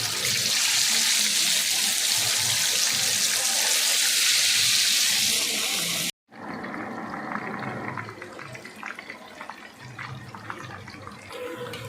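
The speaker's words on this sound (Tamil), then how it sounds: "எண்ணெய் நல்லா ஹீட் ஆயிடுச்சு. நம்ம கதறி வச்சுருக்கிற சிக்கனை அப்படியே நம்ம உள்ளார போட்டுடலாம்." Marinated green hariyali chicken 65 pieces fry in hot oil with a loud, steady sizzling hiss, then after a brief cut the frying continues softer and more crackly.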